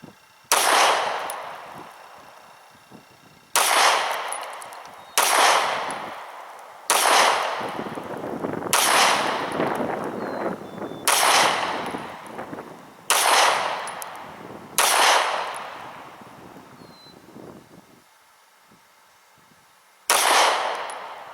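Handgun shots from a Glock 26 and a Smith & Wesson M&P 9C fired at a range, eight loud sharp reports spaced a second or two apart with brief echoing decay, no talking.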